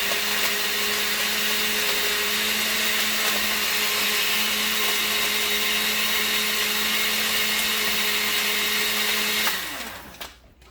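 A countertop blender runs steadily and loudly, crushing ice into a vanilla protein shake, with a constant high motor whine that lasts about nine seconds before the motor shuts off and winds down.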